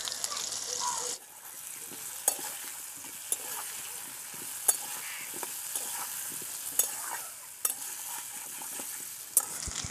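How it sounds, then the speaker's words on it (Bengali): Potatoes with turmeric fry in mustard oil in a wok, a steady hiss of sizzling broken by sharp, regular clinks and scrapes of a spatula stirring. "আলুগুলো ভেজে নেব,"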